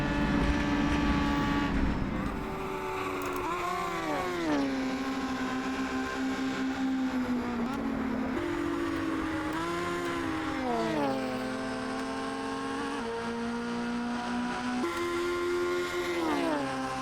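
A historic Formula 2 race car engine at Spa-Francorchamps, loud and close, revving hard with rising and falling pitch sweeps through gear changes, repeated several times as the car accelerates out of corners.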